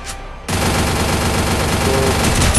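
Automatic gunfire from a shooter video game erupts after a brief quiet moment and continues as a dense, loud, sustained burst of rapid shots.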